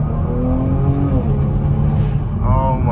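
A tuned Kia Stinger on intake and exhaust modifications accelerates hard at wide open throttle in the city, its engine note loud and close, rising steadily across the whole stretch.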